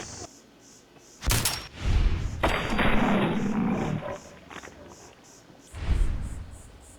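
A gun fires in the video game Fallout 4: a few sharp, loud blasts, each trailing into a rumbling echo, with quieter stretches between.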